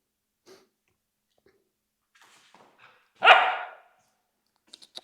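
A puppy lets out one sharp, loud bark and growl while playing with an older dog, surrounded by quiet moments with faint snuffles and small noises.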